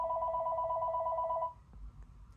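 A telephone gives a single steady two-tone electronic ring that lasts about a second and a half and then stops, leaving a quiet room with faint rustling.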